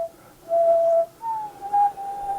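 A person whistles a simple tune alone, clear sustained notes with short gaps, close by and moderately loud.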